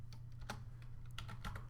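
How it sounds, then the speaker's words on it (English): Fingers tap on a computer keyboard while someone enters Python code: a quick, uneven series of crisp clicks over a low steady hum, with no one talking. "which is above the 8"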